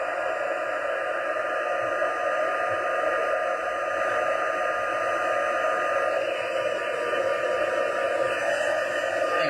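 A heat tool blows hot air steadily onto a koala-themed craft project, a constant close whooshing hiss that holds even for the whole stretch with no talking.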